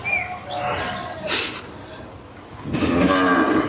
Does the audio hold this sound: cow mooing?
yes